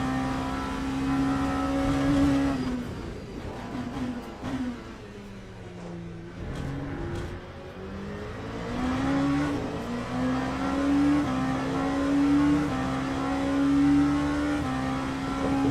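Race car engine in Le Mans Ultimate at Sebring, a steady droning whine that sags in pitch midway as if lifting off, then climbs again and holds loud and close throughout, with no talk over it.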